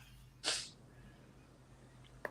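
One short, sharp sneeze bursts out close by in a quiet room and is followed by near silence.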